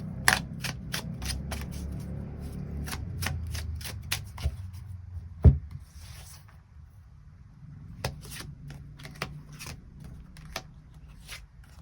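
Tarot cards being shuffled by hand, a series of quick crisp riffles and sharp snaps in uneven bursts, close and clear, with a pause in the middle before more shuffling.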